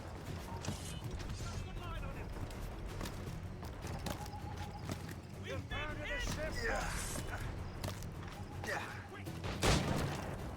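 Mortar and cannon fire during a ship battle in Assassin's Creed Rogue, heard as a dense, rumbling barrage of distant blasts mixed with clattering battle noise and game sounds, with a player talking over it.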